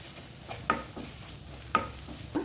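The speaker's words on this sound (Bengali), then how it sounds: "ডিমটাকে আমি হালকা একটু ভুনে নিলাম" Egg frying with snake gourd and cumin powder in a pan gives a soft steady sizzle, broken by three sharp scrapes of a spatula stirring at roughly one-second intervals, close and quiet.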